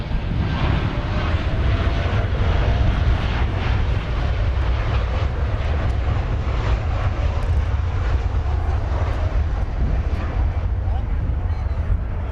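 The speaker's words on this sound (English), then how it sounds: "Flight 32, this is a 7-year-old Dreamliner Dash 9." Seven-year-old Boeing 787-9 Dreamliner airliner on flight 32 at Dallas Fort Worth Airport, a steady loud engine roar with deep rumble lasting throughout, voices talking over it.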